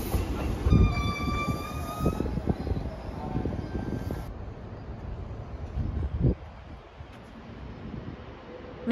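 A Meitetsu express train at Toyohashi Station, shared track with the Iida Line, rumbles loudly through the platform with rail clatter and a high whine, settling into quieter rolling after a few seconds.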